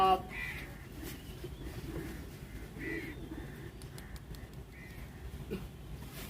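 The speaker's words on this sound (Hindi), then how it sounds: "ये मेरे उड़ने वाले कबूतर हैं।" Lalband flying pigeons call with soft coos and throaty notes, scattered across the clip over a steady low outdoor rumble.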